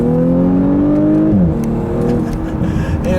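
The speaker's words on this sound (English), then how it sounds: "I love those burps on the upshift too." A 2018 Audi S4 engine revs high and loud while driving, then drops sharply on an upshift with a short burble, the engine note settling lower afterward, heard from inside the car with no talk.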